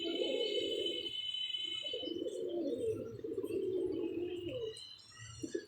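Lakha pigeons coo in a steady, low, rolling murmur that runs almost without pause, with thin high chirps from other birds over it and no voices.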